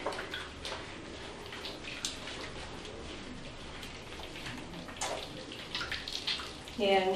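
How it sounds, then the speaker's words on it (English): Water runs steadily indoors while a dog's paws are washed, a soft continuous splashing with a few brighter splashes and a faint voice near the end. "I need to wash this paws"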